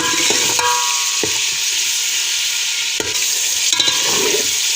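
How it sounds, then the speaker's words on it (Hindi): Mutton frying with spices in a pot for aloo gosht, a continuous hissing sizzle with a few scattered utensil knocks and scrapes, close and fairly loud, without speech. "इसको हम बस थोड़ा सा और भूनेंगे"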